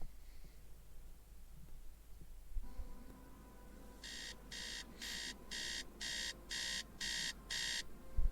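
An alarm clock in a video game sounds a run of eight loud, evenly spaced electronic beeps over a low background hum, with nobody talking.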